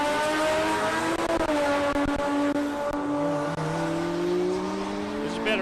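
Supercharged Holden HG panel van with a red motor on a drag strip run, loud sustained engine roar climbing in pitch through the gears, close and continuous throughout.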